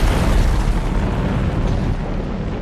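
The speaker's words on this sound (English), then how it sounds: "it's Sorcerer that explodes from a blown tire" The truck Sorcerer blowing up after a tire bursts, a heavy booming explosion that starts loud and rolls off into a long, dense rumble.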